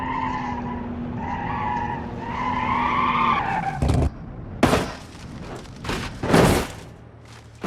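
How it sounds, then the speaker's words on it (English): Car tires squeal while drifting in BeamNG.Drive, starting with a sustained engine drone and a tonal squeal, then giving way to several sharp, loud bursts of tire screech and skidding. "Y'all hear that drifting? The tires squealing, they just drifting away."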